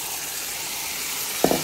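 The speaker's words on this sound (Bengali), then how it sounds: "এখন আমি ডাইরেক্ট মাছটা দিয়ে দিমু" Fish dropped into a hot pan with green chillies erupts in a sudden loud sizzle near the end, after a steady low background hiss, with a second short burst following.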